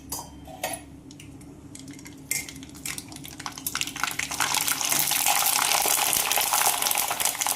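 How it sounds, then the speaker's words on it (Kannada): Moong dal papad hits hot oil and the frying builds into a loud, dense sizzle that swells over the final seconds, preceded by a few sharp clinks of utensils against the pan. "ಎಣ್ಣೆ ಕಾದೈತಿ. ಈಗ ಹಪ್ಪಳ ಹಾಕ್ತಾನು."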